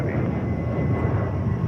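A Hawaiian Airlines heavy jet taking off at JFK, heard as a steady, dense low engine roar with a faint whine above it, continuous and fairly loud throughout.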